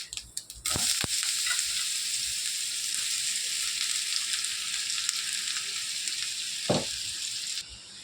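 Snake gourd fries in hot oil seasoned with five-spice and dried red chillies, a loud, steady close-up sizzle with a couple of utensil knocks, cutting off abruptly near the end.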